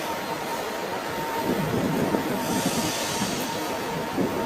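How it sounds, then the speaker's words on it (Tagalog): Steady rumbling hiss of a train carriage in Vienna, Austria, with a constant low drone and faint rolling noise throughout, no voices. "nandito na tayo sa loob ng train"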